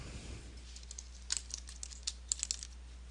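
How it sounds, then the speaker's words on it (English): Typing a note on a computer keyboard: faint, scattered key clicks close by, coming in quick uneven bursts over a low hum. "and then type your text"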